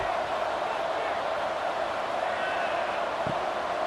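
Stadium crowd noise in College Football 26 during an Ole Miss vs Mississippi State game: a steady, broad roar of many voices fills the air, constant and loud throughout with no individual shouts standing out.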